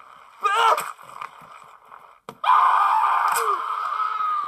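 A character in the video game Happy Wheels screams after being knocked off a bike. A short yelp comes first, then a louder, sustained scream with a splashy rush of game sound behind it.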